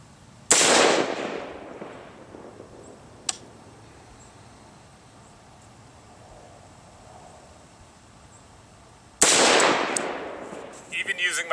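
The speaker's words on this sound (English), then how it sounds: "we're going to go ahead and send a couple more rounds downrange" Two rifle shots are fired downrange at an outdoor range while zeroing an EOTech holographic sight, each a sharp loud crack with a decaying tail, spaced several seconds apart, with a faint click between and quiet background.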